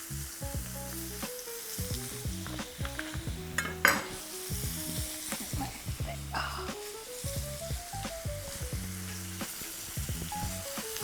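Butter melts and sizzles loudly in a pan with a ribeye steak, a constant crackling hiss broken by occasional utensil clinks, with music playing underneath.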